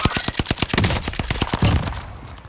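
Rapid SMG fire in Call of Duty Warzone, a fast even burst of sharp shots for nearly two seconds, loud and close, trailing off into a fading echo, with no talking.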